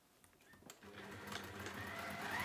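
A sewing machine stitches across an octopus pouch, its motor starting faintly and then running steadily, growing louder and denser toward the end with no talk over it.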